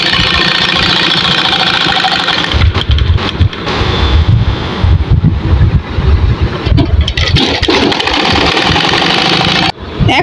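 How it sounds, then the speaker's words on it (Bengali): A sewing machine stitches the round bottom border of a women's prayer hijab, making a loud, steady mechanical whir with knocking chatter that stops briefly near the end. "এখন আমি নিচের বর্ডার রাউন্ড করে সেলাই করে নেব।"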